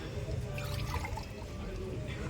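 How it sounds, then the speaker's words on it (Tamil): Water from boiled mutton is poured onto biryani rice in a pot, making a continuous close splashing gurgle, with a voice faintly present underneath. "ஒரு இது அரிசி போட்டுட்டு மட்டனுக்கு வேக வச்ச தண்ணி அது கூட சேர்த்துக்கணும்"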